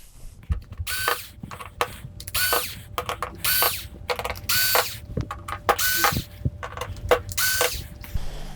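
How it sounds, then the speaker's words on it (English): Screws being backed out of the rear panel of an LG 47LB5900 TV, heard as a series of close, sharp ratcheting and whirring bursts separated by short pauses, with no talking. "let's go ahead with removing these screws"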